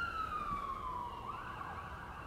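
Emergency sirens from passing vehicles wail at a distance, one tone sliding steadily downward and then shifting, over a low background rumble of traffic.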